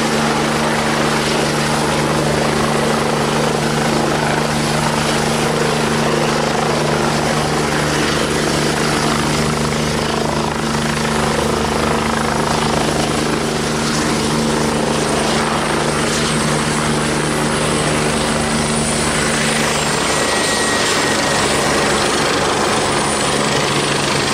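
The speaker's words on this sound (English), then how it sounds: "We see this helicopter all the time." Lifeline medical helicopter at an accident scene, its rotor thudding steadily and loudly throughout with a constant high turbine whine, with no voices heard.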